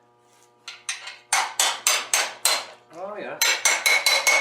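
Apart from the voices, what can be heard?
small hammer wedging open a meteorite knife billet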